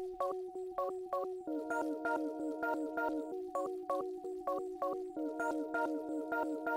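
An ethereal hip-hop beat melody processed with the ShaperBox 3 Double Up preset, giving a bright, plucky synth pattern with rhythmic chopped gating pulses repeating steadily, fairly quiet and unaccompanied by talking.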